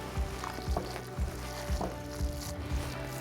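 Wet meatball mixture for smoked meatballs being mixed thoroughly by gloved hands, giving repeated soft squelching, slapping pulses at a steady rhythm, close and fairly quiet with no talk.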